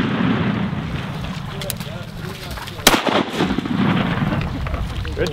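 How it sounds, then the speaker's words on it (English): Shotgun blasts on a Texas duck hunt ring out over a steady outdoor background, with one sharp, loud report standing out near the middle among fainter pops, while people talk nearby. "Good shooting."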